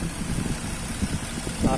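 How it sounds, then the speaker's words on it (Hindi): A Ford Mustang convertible with a 5000cc engine idles in a steady, low rumble with slight pulsing, close by, while a person talks over it. "फाइव थाउजेंड सीसी का इंजन है इसमें लगा हुआ।"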